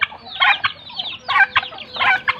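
Village chickens in Khammouane province, Laos, clucking and calling in loud close bursts, three main squawking outbursts with short pauses between, no talking.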